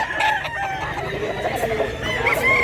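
Rooster, a Golden Boy and Boston cross, crowing loudly and close at a rural chicken market in Mantalongon, Barili, Cebu, with a drawn-out cock-a-doodle-doo amid clucking and steady background noise.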